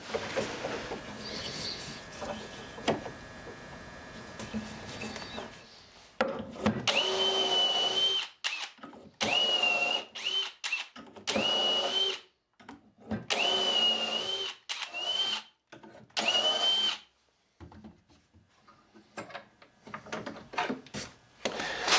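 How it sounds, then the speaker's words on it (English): A power drill bores dowel holes in wood for mid-century modern end table joinery, running in a series of short, whining bursts separated by brief pauses, close and fairly loud. "So once I've drilled all the holes,"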